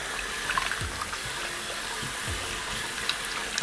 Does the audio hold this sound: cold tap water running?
yes